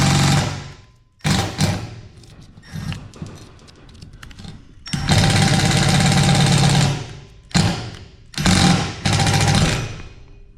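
A power drill works while a garage light is being installed, its motor whirring in loud bursts that start and stop repeatedly with rattling pauses between, close to the microphone.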